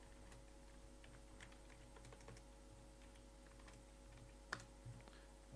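Quiet typing on a computer keyboard patters in short irregular bursts of soft key clicks, one sharper keystroke standing out near the end, with no talk.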